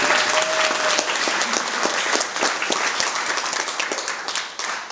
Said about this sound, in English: Round of applause for the bridesmaids.